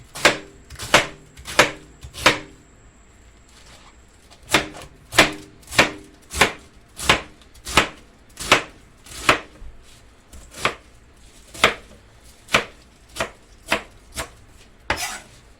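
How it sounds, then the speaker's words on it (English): Sharp knife chops strike a cutting board while chopping vegetables in steady bursts of quick, evenly spaced hits with brief pauses between runs, close and clear with no talking. "chopping my vegetables now."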